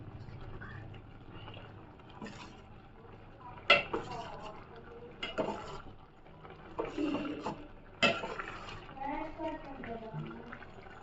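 Food stirred in a pan over a low flame, likely while cooking instant noodles, with soft utensil scrapes and clinks against the pan and a few louder knocks; a person talks quietly throughout.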